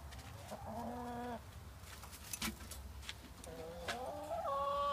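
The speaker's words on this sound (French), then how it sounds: "Là, bon, on a les poules." Chickens on a French rabbit-breeding farm clucking in repeated bursts, several hens calling close by over a steady background hum, with a louder run of clucks near the end.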